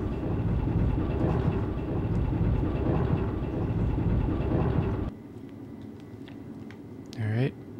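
Train cart rumbling in the Resident Evil Survivor video game, a loud dense low rattle for about five seconds that then cuts out, leaving a quieter hum with a brief rising whine near the end.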